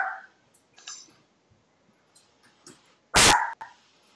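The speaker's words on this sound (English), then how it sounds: "No, it's a dog, man. My dog's excited about the material." An excited dog barks close by: one loud, sharp bark stands out near the end, with a few softer yips and scuffles scattered before it and no talk.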